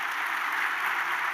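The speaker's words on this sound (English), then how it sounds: "A big round of applause for Scott Ford" An audience at a regional chamber of commerce annual meeting applauding a guest, a soft, even wash of distant clapping with no voices.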